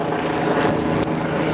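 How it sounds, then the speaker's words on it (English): A helicopter's rotor thrums steadily and loudly overhead, a continuous chopping engine roar with no pause. "So this helicopter's literally like circling our head."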